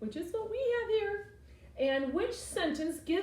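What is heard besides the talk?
No everyday noises stand out.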